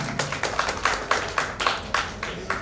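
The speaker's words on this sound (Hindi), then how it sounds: "मेरी एक बार जोरदार तालियां बजा दें" Rhythmic clapping from an audience at a Vastu academy speech in Odisha, a steady series of sharp, evenly spaced claps in a room, fairly close and clear with no voices over it.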